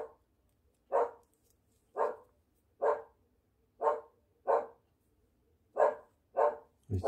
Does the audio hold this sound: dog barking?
yes